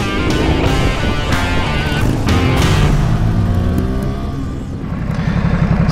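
Ducati SuperSport 950 S motorcycle engine on a test ride, a loud continuous roar with rising and falling revs and gear changes, close and steady throughout.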